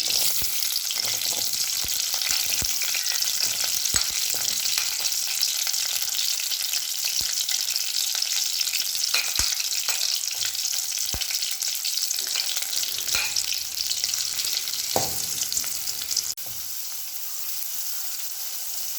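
Small onions fry in hot coconut oil with a steady, dense sizzle and occasional stirring clicks, close and continuous, easing slightly toward the end.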